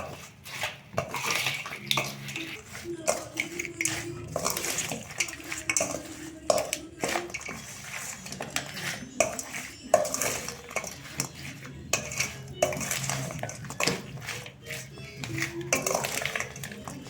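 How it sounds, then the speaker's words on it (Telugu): A pot of broad bean (chikkudukaya) pickle is stirred hard, with a spoon scraping and clinking steadily against the metal sides in quick, uneven strokes throughout. "బాగా కలుపుకోవాలి."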